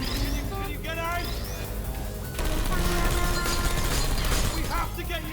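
Bursts of gunfire in the video game Portal 2, a rattling fusillade with sharp crashing impacts layered over a loud, dense game soundscape and music, continuing steadily throughout the clip.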